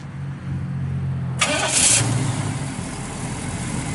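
A 1969 Pontiac Firebird with matching numbers and a factory dual 2.5-inch exhaust cranks briefly and fires up, settling into a loud, steady idle close by.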